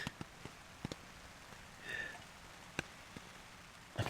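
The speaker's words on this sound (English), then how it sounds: "I can hear rain outside," Rain pattering on a tent and tarp at a night campsite, scattered drops tapping sharply against the fabric over a soft steady hiss, fairly quiet and close, with no one talking.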